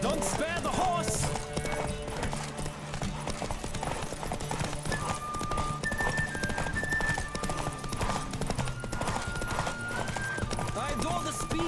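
Galloping horse hooves from The Witcher 3 beat in a fast, even rhythm throughout, mixed with game music and occasional spoken voices.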